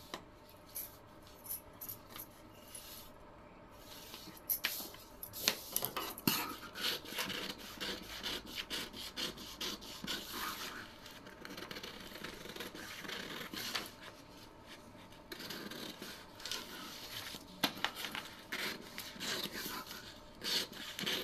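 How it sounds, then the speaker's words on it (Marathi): Scissors cut through a paper pattern for a katori blouse, giving repeated snips and rustling paper scrapes in irregular bursts, close by and fairly quiet, with no talking. "आता आपण इथं ही कटोरी कट करून घेऊ."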